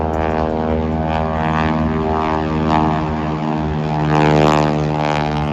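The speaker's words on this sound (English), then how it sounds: "there's actually a low flying plane" A low-flying agricultural propeller plane in Suriname drones steadily overhead, its engine hum rich and continuous, swelling slightly louder as it passes near.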